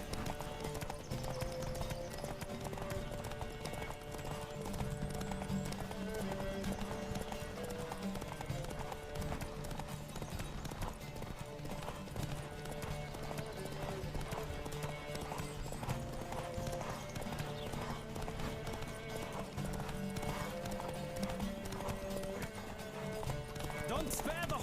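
Rhythmic hoofbeats clatter at a steady gallop during a horse race in The Witcher 3: Wild Hunt, under music and game sound effects, with a horse whinnying now and then.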